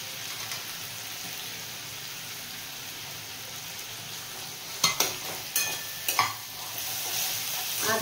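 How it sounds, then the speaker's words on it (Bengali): Ginger and chopped tomato frying in a pan for Bengali five-lentil mixed dal, a steady close sizzle broken by several scraping stirs in the later seconds. "আদাটা দিয়েও ভালোভাবে মিশিয়ে নেব।"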